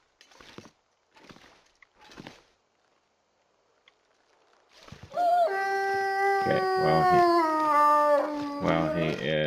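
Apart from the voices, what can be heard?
wolf howling in the video game The Long Dark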